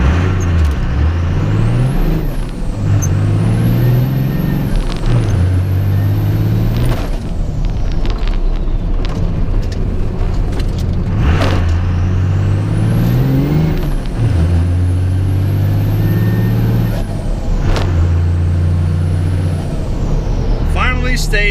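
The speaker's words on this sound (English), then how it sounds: "listening to your turbo spool." A diesel pickup truck drives along back roads. Its engine drones loudly and up close, and a turbo whistle rises and falls in repeated spooling sweeps as it accelerates and lets off.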